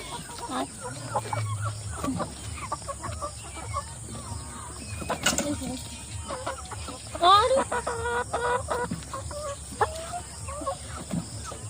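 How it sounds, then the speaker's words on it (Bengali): Chickens cluck and squawk in short scattered bursts as they are herded one by one into a coop at a rural home, with a louder flurry partway through, and a person talks quietly in between. "মুরগিগুলোকে সব একটা একটা করে ঢুকিয়ে দিচ্ছি"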